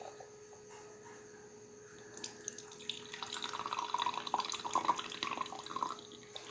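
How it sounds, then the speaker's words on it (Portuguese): Hot coffee poured into a cup, a soft liquid trickle rising after a quiet start and running steadily for several seconds, faint and close. "Agora observe quando eu coloco café, certo?"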